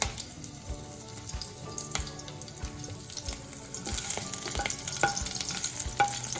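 Mustard seeds and curry leaves sizzling in hot coconut oil for a South Indian brinjal curry, a loud crackling fry with sharp spattering pops and a few utensil knocks, growing busier toward the end.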